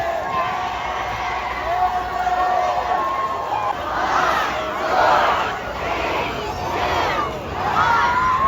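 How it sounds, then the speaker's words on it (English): A crowded wave pool at Cedar Point amusement park fills with cheering and shouting, with loud bursts of voices in waves over a constant wash of chatter and water. "This guy's got the whole crowd going."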